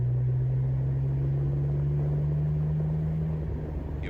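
A BMW E36 with a custom welded exhaust drones steadily as it drives, a loud, low, even tone that holds for several seconds, then eases off slightly near the end.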